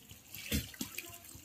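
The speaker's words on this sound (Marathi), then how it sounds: "पाण्यातून चुरमुरे काढायचे" Soaked puffed rice is lifted out of water, giving a short, faint splash and slosh with a couple of small drips close by.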